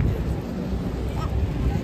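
Wind buffets the microphone near Ararat Restaurant, a seaside restaurant in Dubai, a steady loud low rumble throughout with faint voices underneath.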